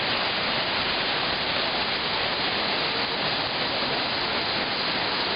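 Düden waterfall in Turkey, a large cascade on a river among caves and canyons, gives a steady, dense roar of falling water, loud and unbroken throughout with no voices.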